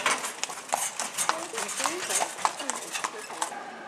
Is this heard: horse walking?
yes